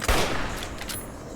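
A single sharp gunshot in Fallout: New Vegas, a punchy report followed by a short ringing tail, loud and close, with no talk over it.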